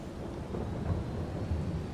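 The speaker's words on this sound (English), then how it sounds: "So while it's still raining" Rain falls with a low rolling rumble of thunder in Farming Simulator 22, a dense, steady wash of weather sound with no voices.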